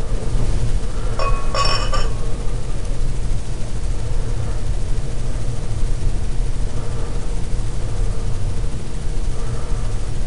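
A glass for Sam Adams Bonfire Rauchbier clinks sharply twice near the start, then a steady hum of background noise continues with no other distinct sounds.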